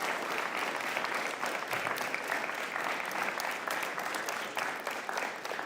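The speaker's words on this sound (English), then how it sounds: "give them a round of applause for being your awesome parents" Audience applause at a military training squadron graduation ceremony, a dense, steady wash of many hands clapping that carries on at full strength without pause and without speech over it.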